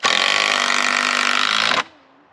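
A power drill drives a screw into a garden fence support, a loud, steady whirring burst lasting nearly two seconds before stopping sharply, then a faint tail.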